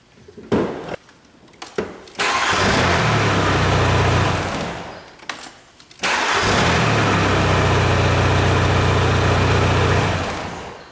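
A Volkswagen Jetta with 267,000 miles cranks in two separate bursts, each a loud, close starter whir that runs several seconds before cutting off, with brief clicks and gaps between the attempts.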